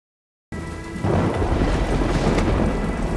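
Steady heavy rain with rumbling thunder in a film scene, a loud continuous downpour that swells after a brief silent start and rolls on with low thunder beneath.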